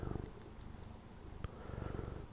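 A cat purrs steadily and closely while being scratched, a continuous rhythmic rumble with a faint soft tick partway through.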